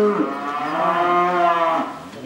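A single long, drawn-out cow moo rises and falls, fairly close and clear, fading near the end.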